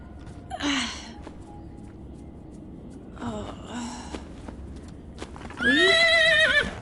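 A video game horse whinnies three times at a moderate distance, the last call loudest and longest, over a quiet ambient background with no talking.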